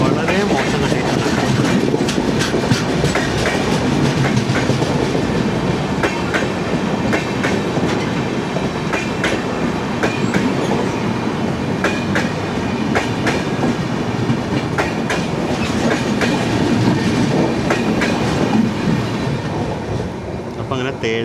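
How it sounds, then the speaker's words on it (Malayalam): A Tejas Express train passes close by, a loud, steady rumble with rhythmic clickety-clack of wheels over rail joints that holds for the whole stretch, with faint voices in the background. "അപ്പം അങ്ങനെ തേജസ് എക്സ്പ്രസ് കടന്നുപോയി."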